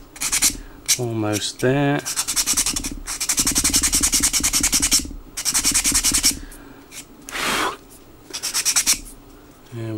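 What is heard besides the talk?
sanding wooden planking on HMS Victory model hull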